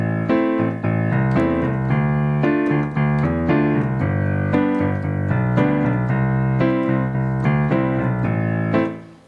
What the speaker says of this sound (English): If you want to play that even an octave lower to get more of a deeper bass sound, you can do that as well.